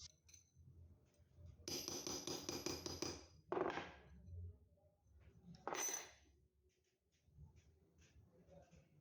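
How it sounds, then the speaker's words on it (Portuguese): Hammer tapping a metal profile against a flat iron bar to straighten it, a few bright metallic strikes and short rattling bursts spaced apart, fairly faint and close, with no speech over them. "basta encaixá-lo aqui no ferro chato e dar algumas pancadinhas para corrigir"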